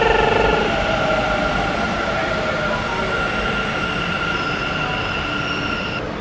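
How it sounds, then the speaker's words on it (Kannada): A Bengaluru metro train pulls into the station with a loud, steady rumble and a sustained high wheel squeal that slowly eases as it arrives. "ಮೆಟ್ರೋ ಬಂತು ನೋಡಿ."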